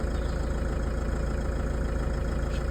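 A Citroen Relay 3.0 HDi diesel engine idles steadily with a close, even low throb and regular mechanical knock, with no talk over it.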